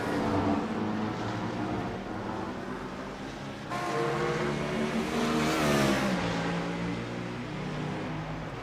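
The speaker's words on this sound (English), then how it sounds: "Pair of BMWs going at it there." BMW race cars duel at Road Atlanta during a six-hour endurance race, engines droning steadily with shifting pitch and a louder surge midway as they pass.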